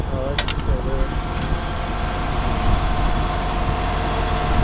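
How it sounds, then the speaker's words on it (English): A small forklift's Mazda 4-cylinder engine idles with its hood open, a steady low mechanical rumble and hum holding constant and fairly close for several seconds. "Got your Mazda 4-cylinder."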